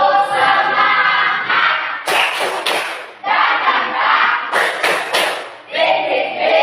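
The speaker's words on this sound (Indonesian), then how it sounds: "Tepuk semangat." Group of people chanting the Indonesian tepuk semangat clapping cheer at a teacher training session, loud rhythmic voices punctuated by sharp bursts of synchronized claps, close and energetic throughout.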